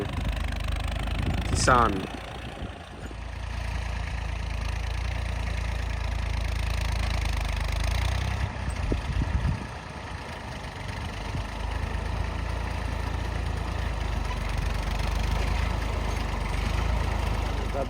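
A farm tractor idles in a field with a steady, loud low engine rumble throughout, while people talk over it.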